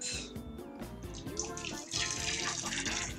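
Hot water running and pouring into a container for a bain-marie while making a solid shampoo from grated soap, a steady close splashing flow filling the whole moment.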